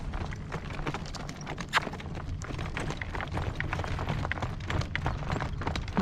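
A horse at a working trot outdoors on a blustery day, hooves clip-clopping in a steady, even rhythm at moderate distance, with wind noise underneath.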